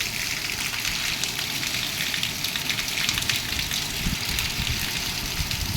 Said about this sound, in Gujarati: ફૂલ વરસાદ ચાલુ છે અત્યારે